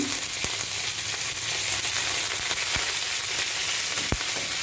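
Curry leaves sizzle in hot oil while tempering mustard seeds, cumin and urad dal for pulihora, a steady loud frying hiss with a few sharp pops and crackles scattered through it.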